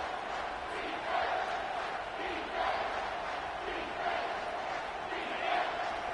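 Dense, steady roar of a stadium crowd cheering in a college football video game during a goal-line stand, with swelling surges every second or so and no clear voices standing out.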